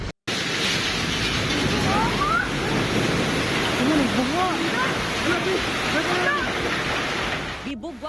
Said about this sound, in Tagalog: Bibugwak ang tubig na naidala nga yuta sa pader niining fitness gym sa Buhangin, Davao City.